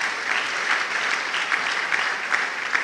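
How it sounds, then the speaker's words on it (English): Audience applause at a university e-learning week event, a dense, steady patter of many hands clapping at moderate volume with no talk over it. "A round of applause, please."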